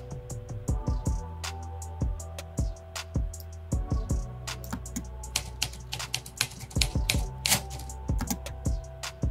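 Typewriter sound effect in Adobe After Effects: rapid, irregular key clacks in bursts with brief pauses, close and crisp, no voices.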